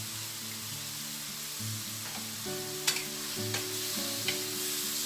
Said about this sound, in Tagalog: i-stir fry na lang muna natin sa dyan, ka-friendship, ng at least 5 minutes